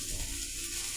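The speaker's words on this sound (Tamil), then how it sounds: "கேட்குதா வதக்கிறது?" Soft, steady sizzle of food being sautéed in a pan while spices are tempered, close and quiet, with a faint scraping stir and no voices.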